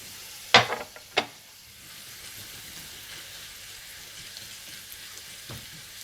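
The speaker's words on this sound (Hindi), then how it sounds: "जब प्याज हल्के ब्राउन हो जाएं तो आप इसमें चारों मगज डालकर भून लें।" Four mixed seeds roast with browned onions in a pan of ghee, two sharp stirring clacks near the start over a soft, constant sizzle that continues quietly to the end.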